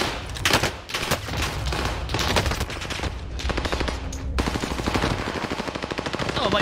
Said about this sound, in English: There's smokes everywhere. There's gunfight everywhere. Gunshots.